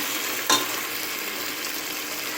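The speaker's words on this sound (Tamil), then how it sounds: "ஸோ இஞ்சி பூண்டு பேஸ்ட் போட்டுட்டு நல்லா வந்து வதக்குங்க" Ginger garlic paste sautés in oil in a pan for egg biryani, giving a loud, even sizzle throughout with one brief metallic clank near the start.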